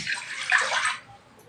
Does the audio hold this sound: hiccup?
no